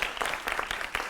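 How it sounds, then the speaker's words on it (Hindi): Brief burst of studio audience applause on a Hindi television debate show, dense clapping filling just over a second, fairly loud and steady. "जोरदार तालियों से अभिनंदन करिए महंत जी का।"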